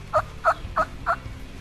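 A wild turkey gobbling in Ohio woods during spring turkey hunting, four loud, evenly spaced gobbling calls in quick succession, clear and fairly close with no talking.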